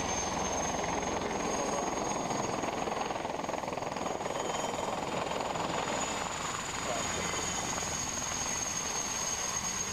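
A three-engined helicopter with three Turbomeca turboshafts and a big six-bladed rotor gives a steady, distant rotor and turbine roar at an airshow, continuous and fairly faint throughout.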